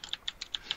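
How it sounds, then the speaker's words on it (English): Five sharp, evenly spaced computer keyboard clicks tap out in quick succession during a game session, close and crisp with nothing else underneath. "That fucking keyboard is clicking like a, I don't know. It's clicking too much."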